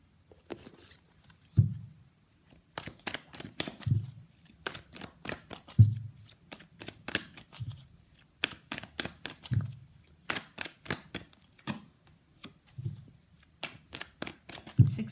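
Tarot cards being shuffled and pulled close up, a steady run of crisp riffles and soft slaps in short repeated bursts with brief pauses, alone without talk.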